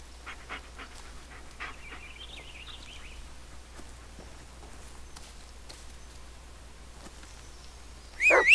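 In the Blair Witch video game, a dog pants softly in quick, faint huffs over a quiet, low ambient hum. A brief louder rustle sounds at the very end.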